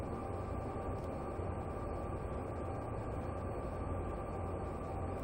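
A heavy train in a train simulator game rolls along a 0.8% gradient with dynamic brakes applied, giving a constant low rumbling drone with faint high hiss, steady and unbroken, with no voices.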